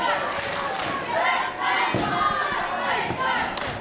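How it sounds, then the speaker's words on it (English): A wrestling crowd at an EPW event chants for the wrestler Vice, a loud rhythmic roar with sharp thumps and swelling bursts, under a commentator's voice. "the crowd is trying to get behind Vice right now"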